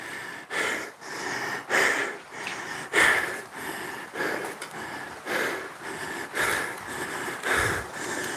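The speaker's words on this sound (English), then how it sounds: "we'll do heavy breathing" Heavy, rhythmic breathing after a bout of dancing at home, with repeated loud huffs and gasps close to the microphone, each breath roughly a second apart and no talking.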